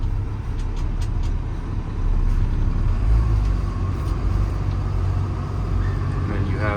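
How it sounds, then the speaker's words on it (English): A 2019 Kenworth T370 crane truck's diesel engine drones steadily with its factory exhaust brake engaged, a loud, even low rumble filling the whole stretch without breaks. "Factory exhaust brake is on."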